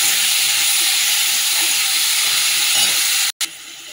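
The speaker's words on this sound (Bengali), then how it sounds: "যে টমেটো কেটে রেখে দিয়েছিলাম টমেটোটা দিয়ে দিলাম" Chopped tomato added to hot oil with fried whole spices for a tomato chutney, giving a loud continuous sizzle and hiss that holds steady, briefly cut off, then resumes slightly quieter.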